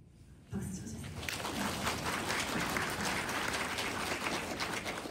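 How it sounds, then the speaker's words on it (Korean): Audience applause at a Korean film screening event, starting abruptly after a brief quiet moment and continuing as a dense, loud, sustained clapping from a large crowd. "박수 쳐주세요."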